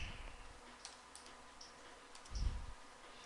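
Quiet, scattered key clicks from a computer keyboard as commands are typed to configure Cisco routers in Packet Tracer, with soft irregular taps and a low thump partway through, close up and without any voices.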